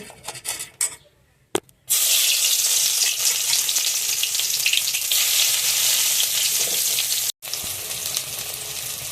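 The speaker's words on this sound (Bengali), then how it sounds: "তেল গরম হয়ে গেছে এখন আমি এলাচ লবঙ্গ ডালচিনি দিয়ে দিচ্ছি" Cardamom, cloves and cinnamon hit hot oil in a kadai, setting off a loud, steady sizzle that runs for several seconds, briefly cut off once near the end before resuming.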